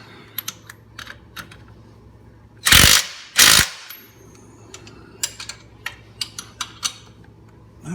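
Torque wrench tightening rear end bolts on a car: sharp ratcheting clicks in short bursts, then two loud rasping pulls of the ratchet mid-clip, followed by more spaced clicks, close up and without talk.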